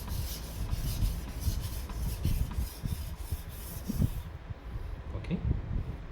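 A knife blade with minor chips is stroked along a sharpening stone in a steady back-and-forth rasp, close and fairly loud, the rhythmic scraping continuing without pause.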